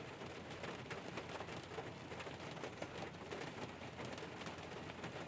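Steady rain falls continuously outdoors around a 2019 Mazda CX-5, a dense even hiss with scattered drop patter, moderately close and unchanging, with no voices.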